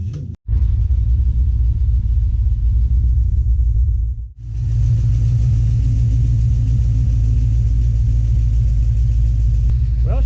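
A muscle car engine, an HRG Malibu, idles loudly with a deep steady rumble. It drops out briefly twice and then carries on strongly at close range.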